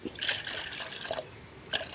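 Rice water and plain water are poured together to make a plant feed, producing a close trickle in a few uneven spurts and splashes, with no one speaking.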